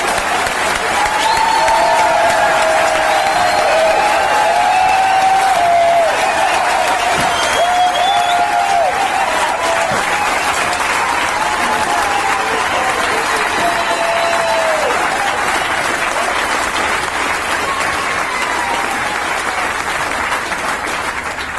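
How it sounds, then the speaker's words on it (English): A crowd gives sustained, loud applause that stays dense and even throughout, with a few faint cheers and voices rising within it. "George, let's just clap George"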